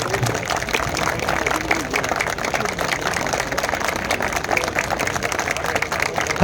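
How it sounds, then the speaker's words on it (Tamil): A large crowd at a Tamil community family gathering claps for the president Habibullah, dense sustained applause filling the whole stretch with a faint murmur of voices underneath. "ஒரு அரை நிமிடமாவது கைத்தட்ட வேண்டும்"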